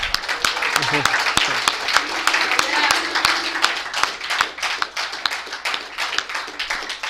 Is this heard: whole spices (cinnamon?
no